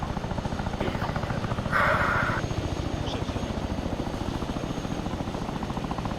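Steady low, pulsing thump of a Chinook helicopter's twin rotors at a military training rotation, continuous and fairly close throughout, with a brief brighter burst partway through and no talk.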